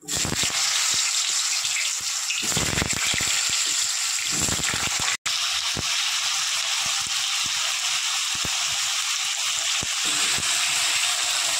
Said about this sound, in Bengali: এবার দিয়ে দেবো যে আলু আমি কেটে রেখেছি মাছে দেওয়ার জন্য, সেই আলুটা দিয়ে দেবো।